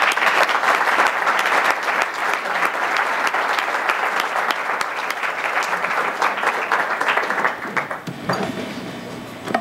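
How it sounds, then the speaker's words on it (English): Conference audience applause fills the hall, dense sustained clapping from a large crowd that holds steady for several seconds before thinning out near the end. "I think we should give a round of applause to all of you and to the organizers."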